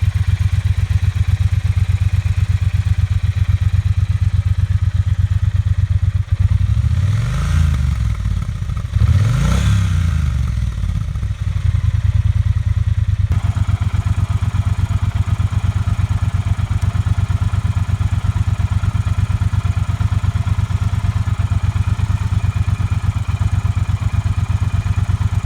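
A Triumph Bonneville T120 motorcycle with LED lights and heated grips, its exhaust giving a steady deep rumble for the full length, with two brief rising-and-falling revs early on, no talking.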